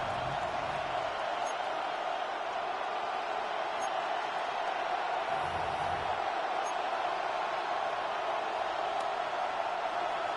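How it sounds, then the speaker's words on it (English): Steady roar of a stadium crowd at an NFL Tennessee Titans football game as a 3rd-and-goal play nears, a loud continuous wash of voices and cheering with no distinct breaks. "This crowd into it now as we get to 3rd down."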